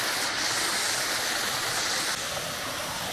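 A big forest waterfall at Kailasakona pours without a break, its loud, even wash of water filling the air nearby, slightly softer toward the end, with nobody speaking.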